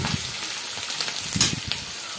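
Green chilies sizzling in hot oil for kande pohe, a dense crackling hiss with irregular spits and pops, close and loud, no one speaking.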